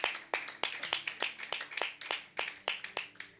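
A church congregation claps together at a morning worship service, producing a steady run of sharp, evenly spaced handclaps at moderate distance, heard on their own.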